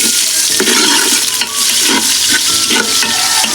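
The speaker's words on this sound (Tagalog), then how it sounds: "Sa pinagprituhan nga ho pala ng dilis, doon na rin tayo magigisa ng ating mga samya." Turmeric, garlic and onion sautéing in oil left over from frying anchovies, a steady loud sizzle with soft stirring scrapes running throughout, no voices.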